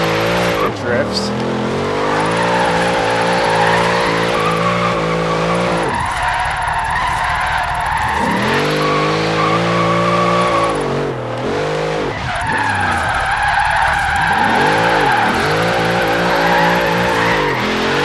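Loud and near, a Ford Crown Vic set up for rear-wheel-drive drifting slides through repeated skids, engine revs climbing and dropping as bursts of tire squeal and scrubbing noise come and go.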